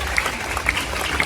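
An audience claps together at a school annual day in a short, steady burst of applause with no voices.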